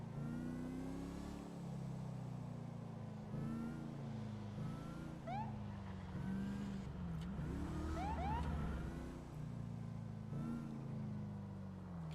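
A car engine hums and shifts pitch nearby, revving up and down as it moves, with faint chirping sounds above the rumble.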